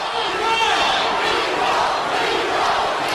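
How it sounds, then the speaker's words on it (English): An arena crowd at an MMA fight chants in unison, a loud, steady roar of many voices sustained throughout, with a commentator's voice faintly mixed in. "The crowd is doing the Rocky thing, but just chanting Nico."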